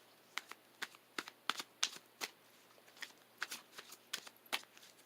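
Tarot cards being shuffled and pulled from the deck during a love reading, a quiet close run of sharp card snaps and flicks coming in irregular bursts, with no voices.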